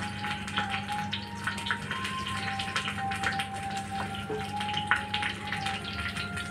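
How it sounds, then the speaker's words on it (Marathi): A green chilli sizzling in hot oil in a pan over low gas heat, a steady soft crackling hiss with small pops throughout, close and fairly quiet, with no talking. "आता मी तेलात एक मिरची टाकते।"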